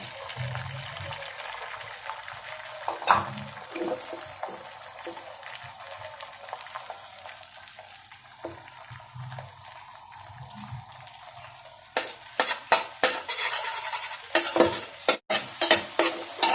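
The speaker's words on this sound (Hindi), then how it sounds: "ऑयल हमारा गर्म हो चुका है। अंडे डाल देंगे।" Eggs frying in a pan of hot oil for a daal anda dish, a steady broadband sizzle with stirring clatter and sharper crackling pops toward the end.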